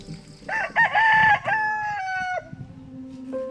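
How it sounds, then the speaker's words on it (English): A rooster crows at dawn in a Philippine fishing village, one loud, close cock-a-doodle-doo with a rising then long held, wavering call, followed by a short cluck. "When the rooster crows, Aida Proceso wakes her family."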